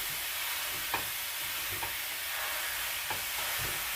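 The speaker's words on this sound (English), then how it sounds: "Break up the ground beef as it cooks, okay?" Ground beef sizzles in a pan for nacho topping while a spatula breaks it up, giving a steady broad hiss. A few soft scrapes and taps mark the stirring, heard close and without any voices.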